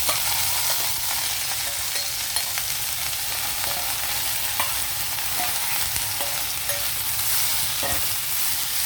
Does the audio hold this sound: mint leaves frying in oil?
yes